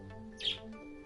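A brief bird chirp in a sci-fi video game, a single short tweet rising over a steady background music hum.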